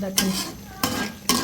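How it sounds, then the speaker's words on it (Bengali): Katla fish cooking in a pan with tomato, onion, garlic paste, oil, turmeric, chili and cumin, heard as a steady sizzle broken by three sharp stirring scrapes. Someone says a brief word. "মাছ ভুনা করে নেব।"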